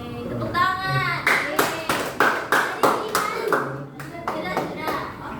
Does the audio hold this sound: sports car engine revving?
no